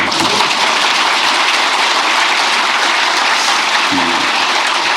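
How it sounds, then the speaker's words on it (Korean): Dense, steady applause from a large crowd of senior public officials fills the whole stretch, with no pauses, during a presidential speech. "이럴 때 박수도 한번 하세요."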